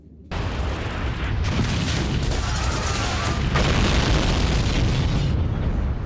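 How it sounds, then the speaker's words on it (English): An explosion rips through a trailer at an oil site in Texas, a sudden loud blast that swells into a sustained, roaring rumble lasting several seconds with no voices. "Suddenly, an explosion rips through the trailer."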